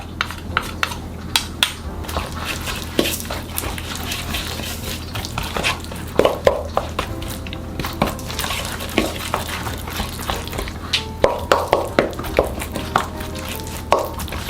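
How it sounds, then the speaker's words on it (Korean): Seasoning with garlic, corn syrup and sesame oil is stirred together in a bowl for dressing saltwort greens, making continuous wet mixing and scraping with scattered light clinks of a utensil against the dish, close up and with no voices. "참기름도 한 스푼 넣어서 같이 잘 섞어주세요."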